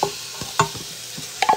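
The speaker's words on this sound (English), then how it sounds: "we want to now cook this and brown this meat in this pan" Ground turkey browning in a pan set to sauté, with a steady low sizzle broken by a few scraping stirs of a utensil, close and fairly loud, no talking.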